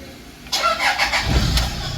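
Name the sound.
Toyota Fortuner engine starting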